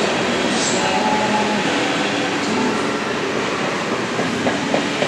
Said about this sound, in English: Hear the train in the background.